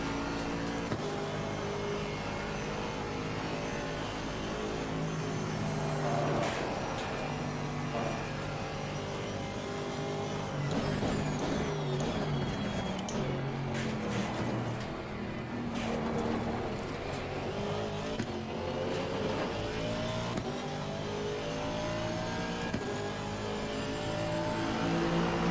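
GT3 race cars in Assetto Corsa Competizione: several engines drone continuously with rising and falling revs and gear changes, a whole pack running close together at moderate volume.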